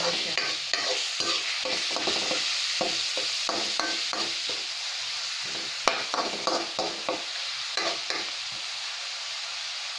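Ground chicken sizzles steadily in a hot pan for ginisang ampalaya, with frequent sharp scraping clicks of a utensil stirring and turning the meat, close and fairly loud throughout.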